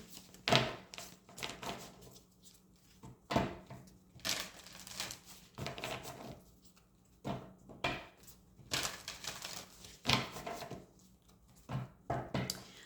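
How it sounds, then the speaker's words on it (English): Tarot cards being drawn from a deck and handled during a Full Moon in Pisces reading, giving a series of soft papery shuffles, slides and card snaps that recur every second or two, close up and fairly quiet, with no talk. "let's get one card out as to how you can help heal this energy"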